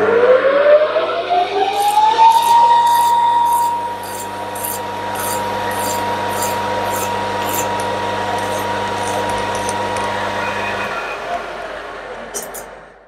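A hand file with a handle chamfers the end of a workpiece spinning on a lathe before threading, giving rhythmic rasping strokes over the lathe's steady motor hum and whine, with someone talking.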